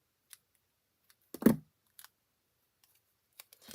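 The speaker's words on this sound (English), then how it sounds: "Just cut a little piece off here" A few sharp, quiet snips and clicks of scissors trimming a small piece of card or paper for a handmade gift card, in an otherwise silent room.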